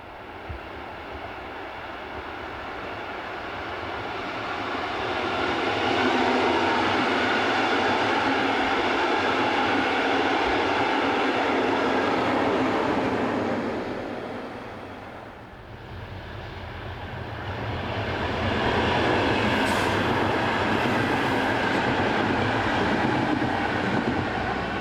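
Locomotive 143940 hauls a train away from Probstzella station, at the foot of the climb through the Frankenwald, a steady rumbling roll that swells, dips briefly, then swells again at moderate distance.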